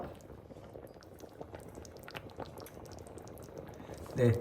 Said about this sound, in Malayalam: തിളച്ചു വന്നു അപ്പൊ നമ്മുടെ കറി റെഡി ആയിട്ടുണ്ട്